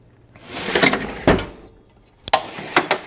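Junk drawer in a garage tool area sliding and knocking, a few loud close scraping thumps with clattering contents, separated by short pauses.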